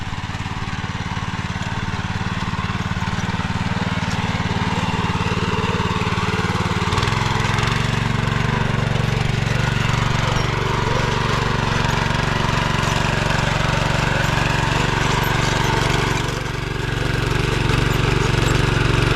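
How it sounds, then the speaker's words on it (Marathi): A petrol power tiller ploughs a rain-soaked field, its small engine chugging loudly and continuously close by, the pitch shifting slightly as load changes partway through. "याला कॉलर म्हणतात आमच्या गावठी भाषेत याला ट्रॅक्टर म्हणतात बघा"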